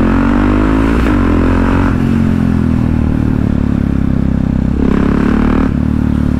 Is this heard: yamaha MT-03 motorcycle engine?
yes